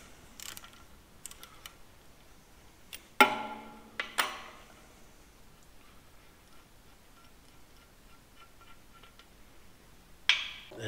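Wrench work loosening bolts on a British Army Centurion main battle tank gearbox: sharp metallic clanks and ratcheting clicks in a sparse rhythm, several loud knocks standing out against quiet workshop background.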